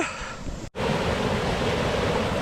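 A stream with a strong current rushes steadily in the countryside, a loud, dense wash of flowing water after a brief sharp break near the start, with no voices.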